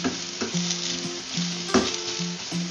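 Okra omelette mixture of ladies finger and egg is stirred in a frying pan, sizzling steadily with repeated scraping strokes of the spatula close by and no talking.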